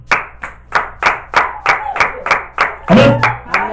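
Rhythmic clapping from a church congregation applauding Jesus Christ, about ten sharp, evenly spaced claps in unison, with a brief voice rising under the later claps.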